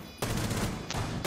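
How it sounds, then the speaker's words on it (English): Gunfire from a shooter video game, a continuous rapid burst of automatic fire that starts abruptly and holds steady at loud volume, with a brief sharper crack near the end. "They started shooting with fucking smoke."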